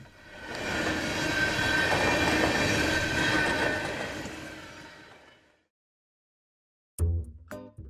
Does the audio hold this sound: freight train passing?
yes